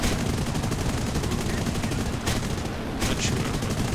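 Aircraft guns on a Reggiane Re.2001 serie 1 fighter pour out API rounds in a flight game, a dense nonstop rattle of bursts that stays loud for the whole stretch.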